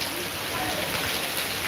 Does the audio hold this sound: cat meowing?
no